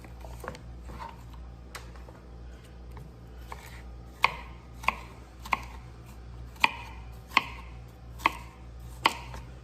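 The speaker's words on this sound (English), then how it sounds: "you just do some little quick slices, quick rough slices, real elementary" A knife chops vegetables in quick rough slices, sounding as sharp taps on a cutting board. The taps start sparse and irregular, then fall into a steadier rhythm of louder, close knocks.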